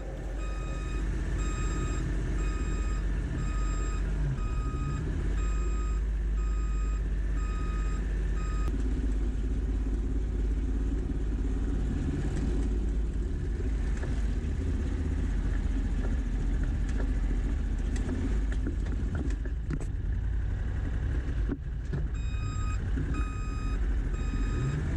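An Argo 8x8 amphibious vehicle moving a trailer runs with a continuous engine rumble, while an intermittent electronic beeping sounds near the start and again near the end.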